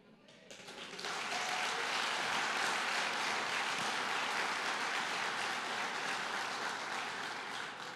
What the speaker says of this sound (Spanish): Sí, aplaudieron, amén.